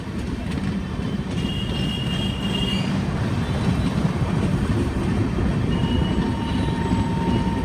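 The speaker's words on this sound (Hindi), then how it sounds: "फिलहाल अपनी गाड़ी श्रमजीवी एक्सप्रेस को ओवरटेक कर रही है" A Sairang Rajdhani Express rolls at speed past the Shramjeevi Express near Patna Sahib station, a dense, steady rumble of wheels and carriages with faint squeals, loud and continuous throughout.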